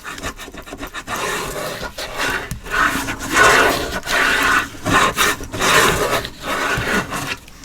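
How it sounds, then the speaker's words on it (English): Glued paper being burnished, a loud close rubbing scrape in continuous rhythmic strokes, each pass rising and falling, broken by brief pauses between strokes. "now I'm going to flip it and get some good burnishing down."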